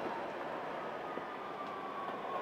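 A tram rolls past on a city street, a steady, moderately distant rumble with a faint high whine running through it, and no voices.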